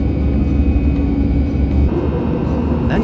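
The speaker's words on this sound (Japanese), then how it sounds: "隣の滑走路から飛行機が飛び立つところが見えます。" An airplane taking off from an adjacent runway at Doha's Hamad International Airport, heard from inside an aircraft at night as a steady, loud low engine roar and rumble with no speech.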